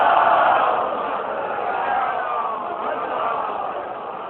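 Large crowd at a Muharram majlis in Lucknow chanting salawat in unison, a loud, sustained massed roar of voices that swells at the start and then holds steady.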